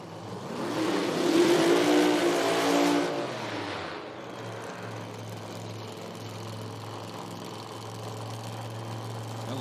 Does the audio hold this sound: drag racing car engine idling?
yes